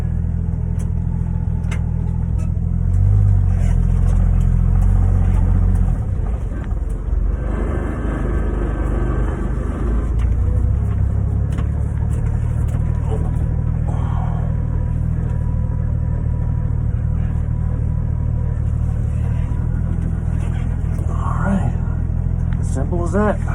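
A 1977 Ford F150 Custom pickup with a 300 engine, two-wheel drive, idling and rumbling at low revs while backing into a parking spot, a steady close engine drone with someone talking over it throughout.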